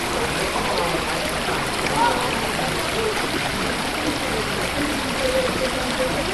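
A babbling brook runs as a steady, even wash of flowing water throughout, with no distinct splashes and a constant moderate level.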